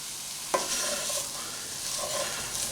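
Small diced potatoes being stirred in a frying pan, a soft scrape of the utensil followed by a steady, fairly quiet sizzle of frying with occasional stirring swishes.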